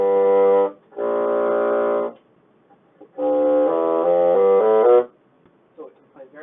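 A bassoon plays alone, nearby and clear: a sustained low note, a higher held note, then a short run of changing notes, with pauses between the phrases.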